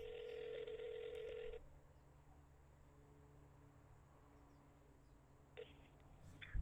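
Outgoing call placed for a radio interview, with a telephone ringback tone sounding in a steady burst, a pause, then starting again near the end, faint over a low line hiss.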